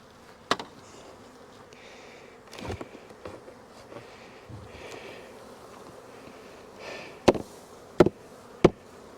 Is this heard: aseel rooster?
no